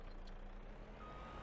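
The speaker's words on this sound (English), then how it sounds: "We are going to just pull the lorry up into the shed." Lorry reversing into a shed in Farming Simulator 25, a quiet truck engine idle with faint reversing beeps over a low steady hum.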